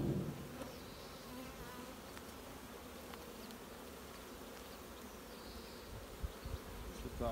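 Honey bees swarm around an opened hive during a colony split, a dense, steady buzzing drone close by, with occasional louder passes and faint handling knocks.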